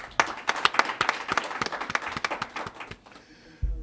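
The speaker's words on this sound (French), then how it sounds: "J'aimerais qu'on les applaudisse très fort." An audience at a results proclamation claps, with dense fast applause from many hands at moderate distance that fades out after about three seconds, ending with a low thump.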